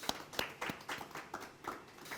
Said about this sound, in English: Guys in the studio, I'd like you to please give yourself a round of applause